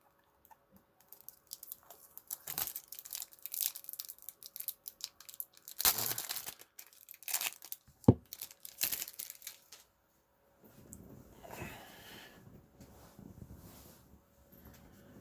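Magic card pack wrappers for Lorehold Legacies are torn open, giving close, crisp crinkling and tearing of foil with light clicks, irregular and fairly soft, followed by quieter shuffling handling.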